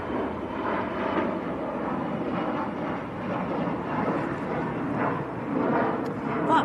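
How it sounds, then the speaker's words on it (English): A Loganair Embraer E145 regional jet taking off at Manchester Airport, a sustained rumbling jet roar at moderate distance, slightly swelling and fading in waves without letup. "Logan Air just blasting off."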